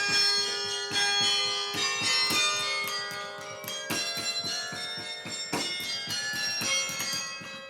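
Large carillon bells in a tower in Ames, Iowa, ranging from nine-pound trebles to a bass bell over five thousand pounds, ringing in a dense continuous stream of loud overlapping strikes with long ringing tones and no voices.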